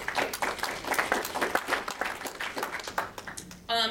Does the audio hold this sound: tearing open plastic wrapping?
no